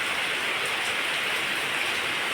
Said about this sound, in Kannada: ಮಳೆ ಬರ್ತಾ ಉಂಟಲ್ಲ